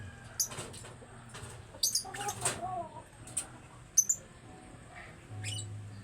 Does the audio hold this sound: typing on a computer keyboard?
no